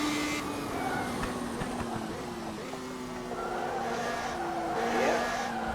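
Radical SR3 race car on a track braking hard into a corner, its engine note dropping and rising through downshifts with faint tire scrub, loud and continuous throughout.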